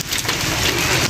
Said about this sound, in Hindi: हे गाइस, ये देखें बड़े बड़े ओले गिर रहे हैं इधर, वो गाड़ी पे टंग टंग